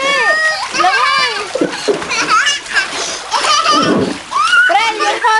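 A child swims and splashes in water on a summer outing, with bursts of splashing mixed under lively children's voices and shouting throughout.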